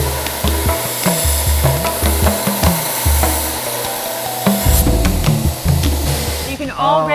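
Belt grinder working a knife blade, a loud, continuous abrasive whir with uneven scraping pulses as the steel is pressed against the belt, with talk over it.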